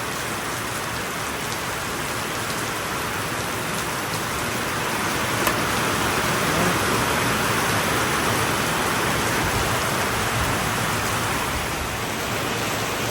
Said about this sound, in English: Oh my God, it's like a monsoon out there.